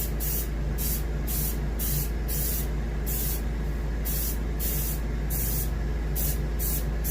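A spray can lays a moderate coat onto a muskie fish mount in short, regular hissing bursts, each lasting about half a second, close and continuous, with no talking.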